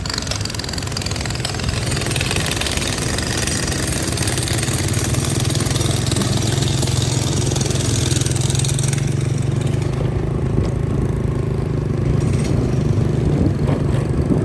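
A road drilling machine roars loudly and steadily from close by as it drills the road surface during BRT bus lane construction, a dense mechanical rumble with a rattling edge that never lets up.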